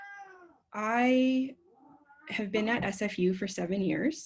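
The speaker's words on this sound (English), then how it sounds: "Pardon the cat, he likes to speak." A male cat meows loudly for about a second at close range, followed by a person speaking over faint background sound.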